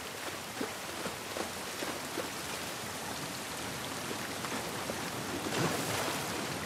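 Steady rain falls outdoors in The Last of Us Part 1 video game, a dense continuous hiss with scattered droplet taps, moderately loud and unbroken by talk throughout.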